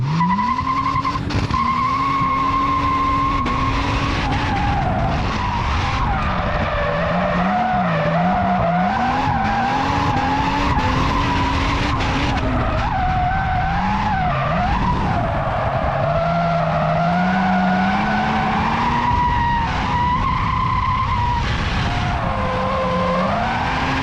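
Ford Fairlane car doing laps, with tires squealing and skidding loudly and continuously while the engine howls and wavers through repeated slides.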